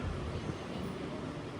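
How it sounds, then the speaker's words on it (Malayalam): A passenger train rolling toward a station on the Bangalore–Chikkaballapur line, heard as a brief, faint, steady rumble without distinct clacks. "ട്രെയിൻ ഇപ്പോൾ അടുത്തൊരു സ്റ്റേഷനിലേക്ക് എത്തുകയാണ്."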